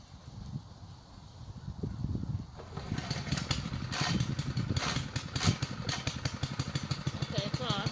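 A small gas engine, used while building a brick walkway, catches after a pull-cord start and settles into a loud, rapid, clattering run close by, with voices talking over it.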